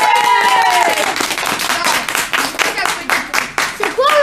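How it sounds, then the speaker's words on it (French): A small group claps for two new children's town councillors, a lively burst of close hand claps that thins toward the end as voices chatter over it. "Ça mérite des applaudissements."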